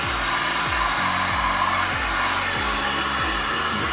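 Heat gun blowing on white marble epoxy for a worktop sample, a loud, steady rushing whoosh of hot air with a low, wavering hum underneath.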